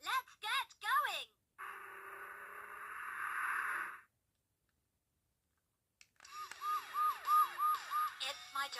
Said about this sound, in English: My siren sounds when there's an emergency.